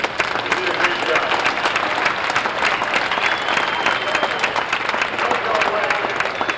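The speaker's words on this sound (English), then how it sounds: "How about a nice round of applause for the instructors?" Stadium crowd applause for the instructors at Shea Stadium during a 1987 Mets instructional game, a continuous broad patter of many hands clapping, distant and reverberant, with some faint crowd noise mixed in.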